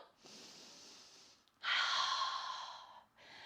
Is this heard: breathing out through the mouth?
yes